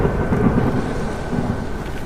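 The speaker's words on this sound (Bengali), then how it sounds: "অনবরত বৃষ্টি হয়েই চলেছে।" Heavy monsoon rain roars in a dense, continuous wash with deep rumbling underneath, loud and close with no voices.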